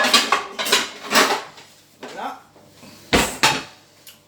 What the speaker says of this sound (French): Donc là, je prends une poêle.